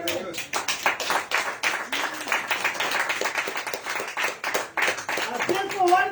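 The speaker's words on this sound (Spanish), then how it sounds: "Dele aplauso al Señor." A church congregation claps steadily and enthusiastically during a sermon, a dense patter of hands that continues throughout.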